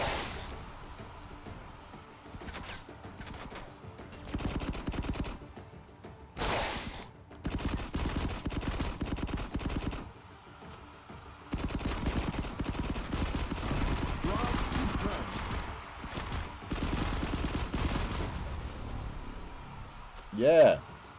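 Gunfire in the mobile shooter FRAG Pro Shooter keeps popping in repeated bursts under steady game noise, with a player's voice talking over parts of it.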